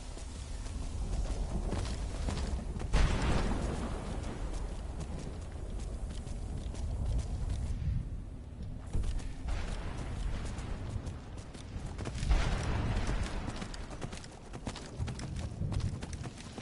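Horse hooves clip-clop steadily in the Skyrim video game, a continuous rhythmic trotting with a few louder bursts rising and falling over time.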